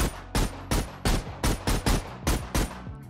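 A gun fires in the VR shooter Project TX, with about nine loud, sharp shots at a steady rhythm roughly a third of a second apart, close and alone.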